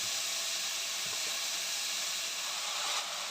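Onion and curry leaves dropped into hot oil already popping with mustard seeds, a steady, bright, close hiss of sizzling that fills the whole stretch without pause.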